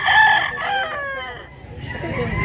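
White rooster crowing at a poultry market in Cebu: one loud, close crow with rising and falling harmonic strands, followed by rough market bustle and scattered clucks.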